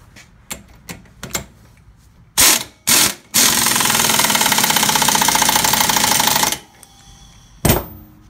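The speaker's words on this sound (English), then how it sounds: "we're going to go ahead and drive that down with our impact" An impact wrench drives a nut onto a Mercedes-Benz ML320 center support carrier bearing: two short loud hammering bursts, then a sustained rattling run of about three seconds, a pause, and a final brief burst.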